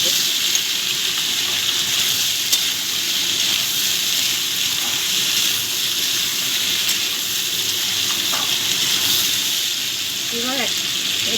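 Tomatoes fry with salt in a pan and are stirred, giving a loud, constant sizzle with occasional scraping stirs while a voice talks quietly underneath.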